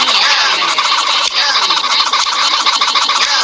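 A chicken in a video game gives loud, dense, rapid clucking and gobbling calls that fill the whole stretch without pause.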